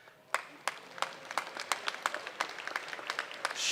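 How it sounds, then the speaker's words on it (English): Graduates at a commencement ceremony clap, heard as a thin scatter of distinct, fairly close handclaps at an irregular pace, building slightly into denser applause toward the end. "Could you all turn to your parents and give them a huge round of applause?"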